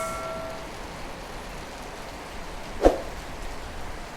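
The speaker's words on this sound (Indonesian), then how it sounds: "hujan deras." Heavy rain in Singapore falls as a steady, soft hiss around a bus stop, fairly faint, with one sharp knock standing out partway through.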